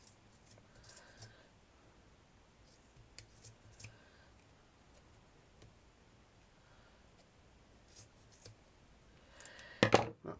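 Scissors snip thread while a doll's hair, nose and ears are made. A few faint, quiet clicks come at scattered moments, and a sharper, louder cluster of snips lands near the end.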